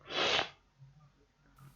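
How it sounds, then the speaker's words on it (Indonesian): One sharp, breathy sneeze bursts out close and loud from someone with a cold, followed by quiet breathing and faint sniffing. "bersin"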